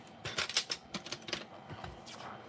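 Cardstock is cut for a handmade Stampin' Up! card, with a quick run of close, crisp clicks and snips.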